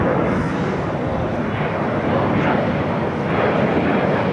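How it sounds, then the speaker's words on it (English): A United Boeing 757-200 jet arriving at LAX on the south side after a flight from Newark, its engines a steady, broad roar that holds loud and even throughout. "Just had a United 757-200 coming in from Newark, flight 2445, just arriving here on the south side."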